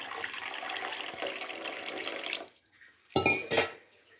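About three-quarters of a cup of water pours steadily into a bowl of jaggery for wheat-flour appam, then stops, followed by two sharp clinks of a vessel nearby.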